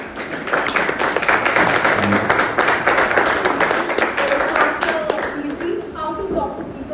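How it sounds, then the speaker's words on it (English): Audience clapping to welcome a speaker at a talk event, a busy patter of many hands that holds steady for several seconds, with voices talking over it and tailing off at the end. "Let's welcome her with a round of applause."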